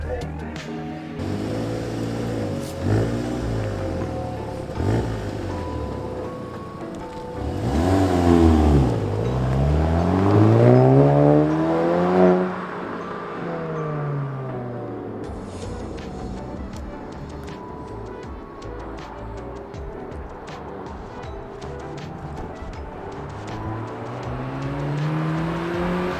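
A Volkswagen GTI with its muffler deleted revs loudly nearby, rising and falling through several throttle blips with a deep rasping exhaust, then settling into a rumbling idle.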